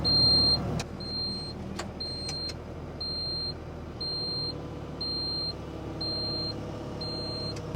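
A John Deere excavator's diesel engine idles at low revs as a steady, continuous rumble, with a loud electronic warning beep repeating about every half second throughout.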